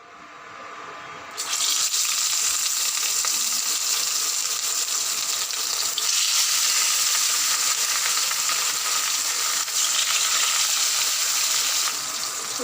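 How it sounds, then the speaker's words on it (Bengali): Fish fry in hot oil in a home kitchen, a steady loud broadband sizzle that starts abruptly after a quiet second and continues unbroken, with slight swells, with no talking. "মাছগুলো আমি না লাল লাল করে ভেজে নেবো।"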